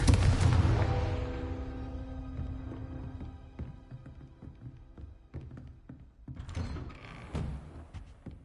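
A fire spell cast in the Hogwarts Legacy video game, a deep booming blast that rolls off over a few seconds, followed by scattered crackling debris and a second rumbling swell.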